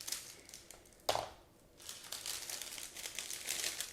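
A plastic bag holding parts of a Flyhawk 1/700 Bismarck 1941 model kit crinkles close up, with one sharp rustle followed by a stretch of softer continuous crackling and handling.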